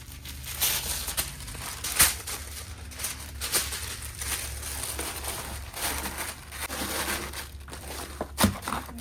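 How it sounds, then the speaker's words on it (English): Tissue paper crinkles and rustles steadily while orders are packed, with irregular crackling bursts close by and no talking. "Struggling with this tissue paper"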